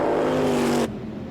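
A Morris Marina race car with its driver's door partly flapping passes close on a racing circuit during a Surtees Trophy race, its loud, strained engine note cutting off abruptly as it goes by.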